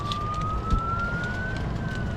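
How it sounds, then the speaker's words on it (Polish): An ambulance siren sounds as a steady, slowly rising wail over constant wind and water noise out on a lake, heard from a 60-year-old Omega cabin sailboat, moderately distant and continuous. "O, karetka wraca, widzisz?"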